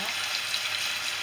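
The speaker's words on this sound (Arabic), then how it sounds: "خليهم يتقلاو مليح الجهتين ونحيوهم" Pieces fry in hot oil in a pan, a continuous dense crackling sizzle heard close up with no talking.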